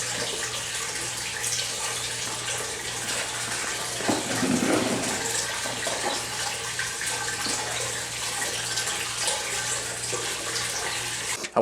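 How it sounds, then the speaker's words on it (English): Cold tap water pours steadily into an aquarium tank, a continuous rushing splash with a slight surge partway through and a low hum beneath, no talking. "while this is being filled up with cold water"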